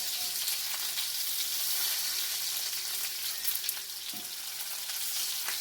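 Lamb chops searing in a hot pan, a continuous loud hiss and sizzle held steady throughout, with a faint clunk near the end.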